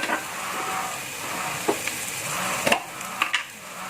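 Fern vegetables stir-fried in a pan with salt and pepper, a spatula scraping and stirring with a few sharp clacks against the pan over a steady hiss of sizzling; no talk.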